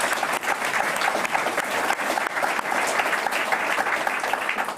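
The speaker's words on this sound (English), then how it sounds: "Can I get a big applause for Christine and Chantal, and of course Dan" An audience claps steadily and loudly at a cycling team presentation for Team SD Worx - Protime, the dense applause continuing without a break.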